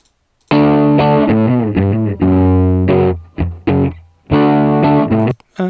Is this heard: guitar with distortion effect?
yes